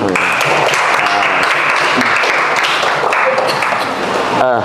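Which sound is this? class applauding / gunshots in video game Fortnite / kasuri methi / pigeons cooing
class applauding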